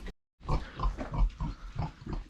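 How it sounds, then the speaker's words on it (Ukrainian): Large White pigs grunt close by in a rhythmic series of short, low snorts, about eight in a row after a brief silence. "Це наші білі свині, велика біла."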